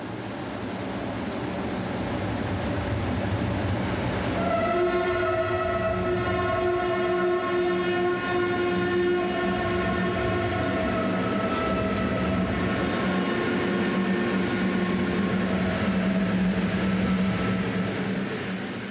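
An RTG gas-turbine turbotrain from the T 2000 series runs toward the Vénissieux depot with a loud, steady turbine roar. Sustained whistling tonal lines rise over it, and no one speaks.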